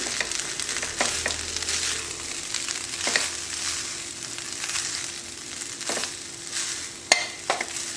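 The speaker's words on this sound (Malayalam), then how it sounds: "റൈസ് പൊട്ടിപ്പോകാതെ മിക്സ് ചെയ്തെടുക്കുക. പാത്രം ടോസ് ചെയ്തെടുത്താലും മതി." Steady sizzling in a pan with scattered scraping clicks of a spoon stirring rice for chicken fried rice, close and moderately loud, no voices.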